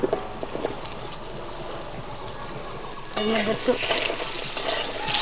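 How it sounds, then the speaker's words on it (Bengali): Potatoes dropped into hot oil in a wok for a spicy crab curry dish, with a sudden louder burst of frying sizzle partway through after quieter kitchen background, continuing close and bright. "তেলটা গরম হয়ে গেছে, এবার আলুটা আমি এর উপর ছেড়ে দেবো।"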